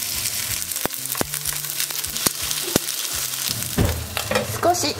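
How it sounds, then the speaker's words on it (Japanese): Rice patties fry in sesame oil in a pan over medium heat, a steady close sizzle broken by several sharp clicks and scrapes as they are moved and pressed. "では焼いていきます。"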